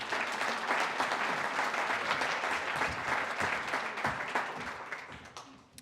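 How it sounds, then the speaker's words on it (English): Sustained applause from an audience at a chamber of commerce awards gala, steady and dense clapping throughout, easing off slightly at the very end. "Give Desiree a nice round of applause again."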